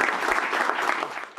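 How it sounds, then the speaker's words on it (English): Applause for the Volunteer of the Year at a community media group's annual meeting: a room of people clapping together in a brisk, dense patter, fairly close and even, fading slightly at the end. "so let's give her a round of applause."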